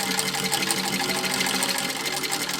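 A sewing machine runs steadily, stitching a thin seam allowance along the edge of a small fabric Christmas stocking ornament, a close, even whirring hum with no speech.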